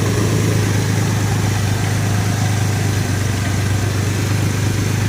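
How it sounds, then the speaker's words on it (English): A car engine runs after a pulley replacement, still carrying a rattle: a steady, loud idle with a constant low drone and a fine, even buzz throughout, no voices. "I think I still have an engine rattle"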